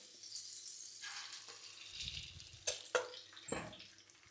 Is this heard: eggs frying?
yes